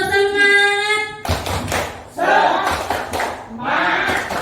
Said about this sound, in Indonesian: kita tepuk semangat dulu ya, biar tambah semangat